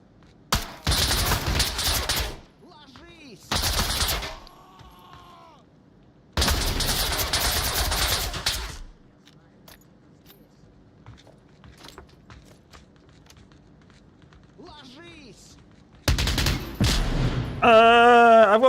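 Pistol fire from a Glock in the VR shooter Tactical Assault VR comes as several loud, close bursts of shots separated by quiet gaps, with clicks and handling noises between them and a voice near the end.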